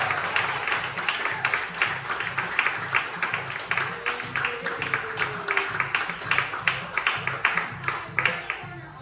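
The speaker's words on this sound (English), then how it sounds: "big round of applause for Corner Office." An audience at an improv comedy show claps in a small room, a steady patter of rhythmic hand claps at moderate loudness that carries on without a break.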